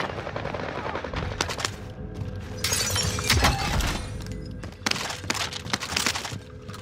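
Rapid machine-gun fire crackles through a video game firefight, with glassy shattering and a string of sharp bursts at close range over a busy background.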